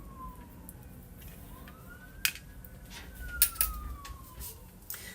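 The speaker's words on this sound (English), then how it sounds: "All I've been hearing is sirens and planes" Sirens from emergency vehicles in a busy neighborhood at night, faint and distant, with rising and falling wails sweeping across the background and a few sharp clicks nearby.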